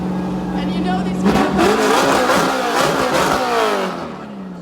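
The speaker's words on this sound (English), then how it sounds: "make some noise when he revs that engine" A race car engine roars and revs loudly nearby at a downtown Minneapolis street showrun, pitch rising and falling in surges, with a crowd and voices mixed underneath.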